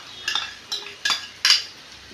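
Chopped green chillies added to a pan and stirred with a metal utensil, four distinct clinking scrapes against the pan in a quick uneven rhythm, close and alone.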